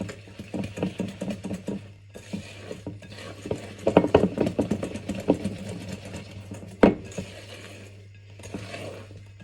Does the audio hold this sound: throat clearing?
no